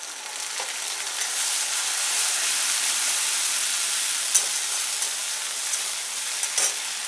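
Ginger and garlic paste fries with onions in a pan, giving a bright, continuous hiss and sizzle up close, with occasional stirring knocks.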